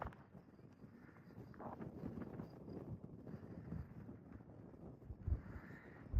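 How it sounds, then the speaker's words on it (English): Wind buffets the microphone on a hilltop, a low rumbling gusting that rises and falls, with a couple of sharper thumps toward the end; faint overall. "A little windy up here now."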